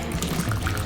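Boiling water is poured into a bowl for a purple onion pickle brine, a brief close trickling splash lasting under a second.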